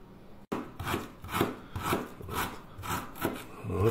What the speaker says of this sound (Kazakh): Мына имбирді бір 50 грамдай көз мөлшермен осылай майда-майда қылып турап алып